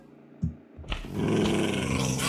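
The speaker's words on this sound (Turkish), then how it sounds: "köpek biraz bana saldırıyor" A couple of soft thumps, then a dog's low, rough growl in Minecraft swells up and holds steady, loud and close, with a synthetic game-like quality.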